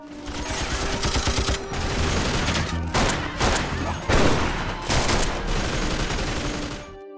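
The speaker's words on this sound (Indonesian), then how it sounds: "saling beradu tembakan" Rapid bursts of gunfire crack back and forth for several seconds, dense volleys broken by brief pauses, loud and close.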